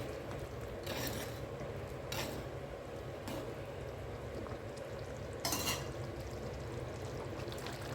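Fried manathakkali berries are added and stirred into a bubbling fenugreek curry, a steady simmering rumble broken by several short scraping bursts from the spoon, each about a second long.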